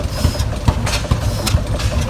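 A Bessemer hit-miss engine driving an oil pumping system at an engine show, a loud close rhythmic chuffing with periodic heavy thumps over a low mechanical rumble.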